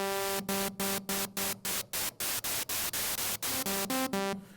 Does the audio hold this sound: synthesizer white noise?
yes